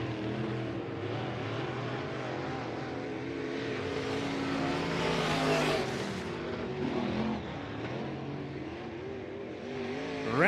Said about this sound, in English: Round and round the 340M goes in turn 2.